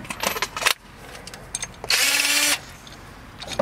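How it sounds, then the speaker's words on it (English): A power drill fitted with a wire brush spins against metal for about half a second, a steady loud whir after a few earlier shorter bursts of tool noise. "Hit it with a wire brush,"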